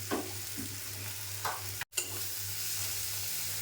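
Tomatoes and spiced masala with coriander powder sizzle steadily in a pan while being stirred, with a few scraping strokes of the spoon and a brief break in the middle; no one speaks.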